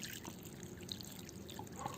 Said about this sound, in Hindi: और ये पानी दे देना है ऐसे